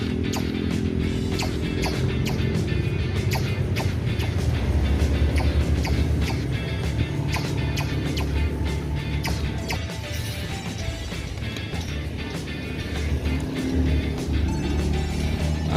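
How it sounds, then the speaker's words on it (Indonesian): A yellow PBR II work train passes along the high-speed rail project track, a steady loud rumble and clatter lasting throughout with repeated sharp knocks from the wheels, sounding close by with no talk. "Ada kereta warna kuning dari arah timur menuju arah barat."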